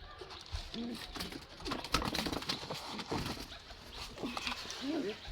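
Pet pigeons in a small backyard mini zoo coo and call at close range, layered over a busy background of other animal sounds and mixed noises.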